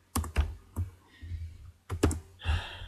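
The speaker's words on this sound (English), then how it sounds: "we're going to type superhero" Typing on a computer keyboard while entering a word in a vector design program: a handful of distinct, close keystrokes in two quick bursts, with no voices.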